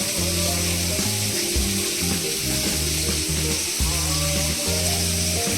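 Mutton cooking in a pan with loud, close, continuous sizzling and frying hiss, and a rhythmic pulsing hum underneath.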